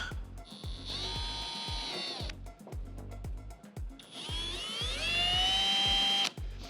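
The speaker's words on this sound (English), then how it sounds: "this is just a matter of being very careful not to let the drill slip" A power drill marks holes in fiberglass on a Mazda Miata fender, whining in two long bursts, pitch rising as it bites, with rapid ticking clicks underneath and a brief pause between runs.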